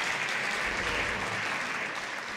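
Steady, dense applause from a concert audience, many hands clapping at once without letup, fairly loud and close.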